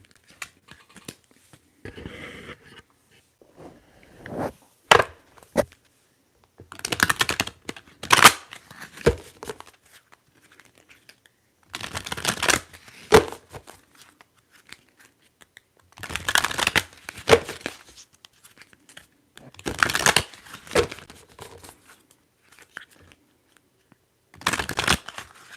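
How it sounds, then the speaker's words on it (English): Tarot cards are shuffled in short bursts of riffling and flicking, several separate rounds spaced by pauses, close and crisp in a quiet room. "Shuffling, shuffling, shuffling."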